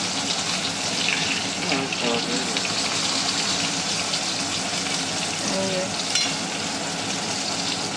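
Fish frying in hot oil, a steady close-up sizzle with bubbling crackles and occasional faint clinks over eight seconds, with no voices.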